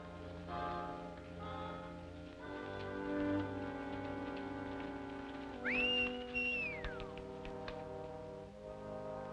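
A single clear whistle calling a horse rises, holds and falls away over a steady orchestral film score in a 1939 western, standing out plainly for about a second.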